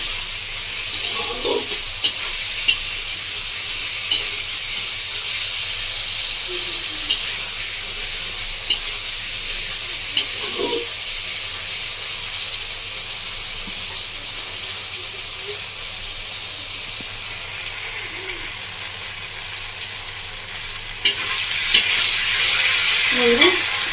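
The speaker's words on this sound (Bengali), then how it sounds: "মশলাগুলো ভালোভাবে কষিয়ে নেব।" Spices sauté in a hot pan for a village-style bata fish curry, giving a loud, constant sizzle with intermittent stirring scrapes, and the frying surges louder near the end.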